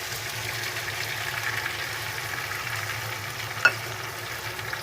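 Chicken achari masala sizzles in a pan as whisked yogurt goes in, a soft, steady frying hiss with one brief clink near the end.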